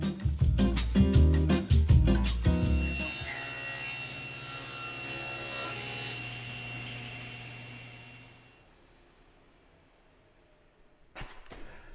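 A 45-degree bevel is cut along the back of a 3/4-inch wooden board, with a few sharp rasping strokes followed by a sustained, close cutting whine that fades out, then brief knocks at the end.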